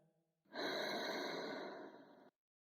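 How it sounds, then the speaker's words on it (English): A single deep, slow breath, close and clear, lasting under two seconds and then ending abruptly in silence. "Take a deep breath with me. Inhale. Exhale."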